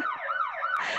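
An emergency siren sound effect plays from a computer, its wailing tone sweeping up and down smoothly, faint and alone for about a second.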